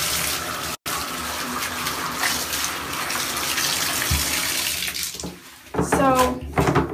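Water runs from a tap while white baseball pants are washed by hand, a steady close gush and splash with a brief cutout near the start, and a voice comes in over the water toward the end.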